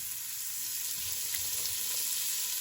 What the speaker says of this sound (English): that garlic is brown, so I'm going to toss in some carrots.